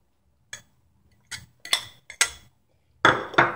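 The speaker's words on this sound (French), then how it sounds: "On met les pommes de terre dans le saladier. Voilà, on écrase bien avec la fourchette" Metal fork scraping and clinking against a salad bowl while mashing potatoes, in a few separate bursts with pauses between, fairly close and clear, with no talking.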